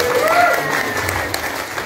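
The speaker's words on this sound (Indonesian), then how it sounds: "Sebenarnya gak usah applause nggak apa-apa, gak usah tepuk tangan" Audience clapping at a send-off gathering for Hajj pilgrims, a dense steady patter of many hands that holds at an even level for a couple of seconds, with some background voices mixed in.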